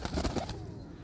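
Pigeons from a Bahawalnagar flock of tumbler pigeons, heard as a burst of wing flapping and fluttering for about half a second, then a quieter bird-filled stretch, close by with no talk.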